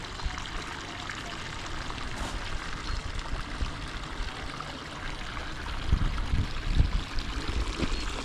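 Fountain water splashing in the Jerusalem rose garden, a steady close hiss of falling water that runs throughout, with a few heavier gurgling surges near the end and no voices.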